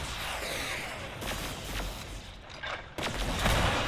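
Gunfire aimed at a Wraith Lord in a Warhammer 40k video game: dense, continuous rattling volleys and booms, loud and unbroken, with a sharp surge near the end.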